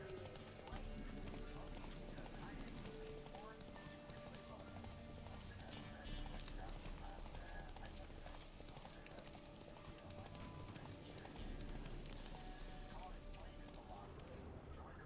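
Hooves of Geralt's horse Roach in The Witcher 3 game, a continuous rhythmic clip-clop of galloping over a rainy outdoor ambience, with someone talking over it.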